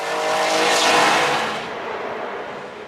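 A historic Formula 1 race car drifts through a corner at Brands Hatch, a loud engine roar rising and then fading with a tyre-squealing edge as it passes nearby.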